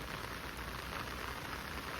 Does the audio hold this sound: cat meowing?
no